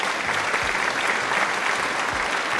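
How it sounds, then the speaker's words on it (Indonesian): Steady audience applause at a student talk event, a dense, even wash of many hands clapping throughout, moderately loud and continuous with no talking over it. "Oke, tepuk tangan dulu dong."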